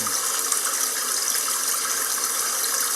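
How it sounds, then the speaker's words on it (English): Steady, continuous running water with a bright hiss, played as a sound effect, close and unbroken with no talk. "Cue the running water."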